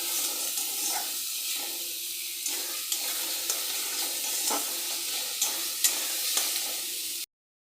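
Spice paste frying in hot oil in a kadai, a steady close sizzle broken by repeated scraping taps of a spoon as it is stirred, with no talking.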